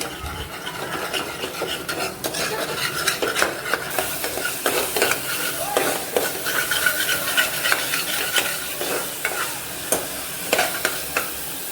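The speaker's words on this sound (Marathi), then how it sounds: "1 चमचा आलं लसूण पेस्ट त्यामुळे चांगलं परतवून घेऊया।" Onion and ginger-garlic paste sauté in a hot pan for a black pea usal, with a soft continuous sizzle under repeated scraping and stirring strokes of a spoon, close and steady, with no talk.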